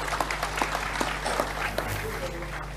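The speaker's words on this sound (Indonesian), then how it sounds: "tepuk tangan semua teman-teman sekalian dengan cinta." A hall audience at a Kiai Kanjeng gathering claps in scattered, uneven bursts over a low steady hum, with some voices mixed in.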